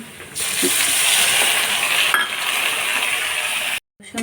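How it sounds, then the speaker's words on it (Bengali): Sliced onions frying in mustard oil in a wok give a dense, close sizzle that holds steady, with a light clink near the start and a brief cut-out just before the end. "কড়াইতে সরিষার তেল দিয়ে দিয়েছি, এবার কেটে রাখা পেঁয়াজগুলো দিয়ে দেব। পেঁয়াজগুলো হালকা লাল লাল করে ভেজে নেব।"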